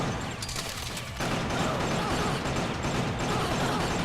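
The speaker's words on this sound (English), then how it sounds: "Just a whole minute of shooting." Dense, continuous gunfire from the video game killer7 Remastered, a loud, sustained barrage of rapid overlapping shots that grows heavier after the first second and never pauses.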